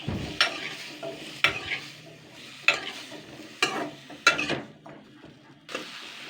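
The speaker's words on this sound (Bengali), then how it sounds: "এটাকে আগে আমি দুই তিন মিনিট হালকা করে নাড়াচাড়া করে নেব" Pumpkin pieces with green chillies are stirred in a pan of hot oil, producing close scraping strokes and clatter roughly every second over a faint sizzle, without any talk.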